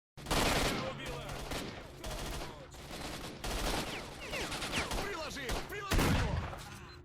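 Sustained firefight from STALKER: Shadow of Chernobyl, with dense overlapping rifle and automatic gunfire bursts at close and mid range, loud throughout with scattered single cracks and faint voices mixed in.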